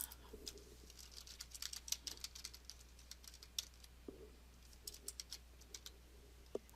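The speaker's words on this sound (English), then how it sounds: "I can start typing again." Quiet, irregular clicking of keys on a computer keyboard, soft and close over a faint steady hum, with no talk.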